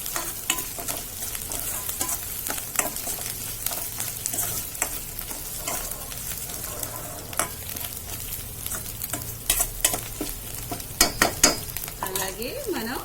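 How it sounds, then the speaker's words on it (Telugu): Ginger frying in a pan for a capsicum curry, a steady close sizzle with frequent clicks and scrapes of stirring throughout, growing busier near the end. "అల్లం పచ్చి వాసన పోయే వరకు వేయించుకోండి."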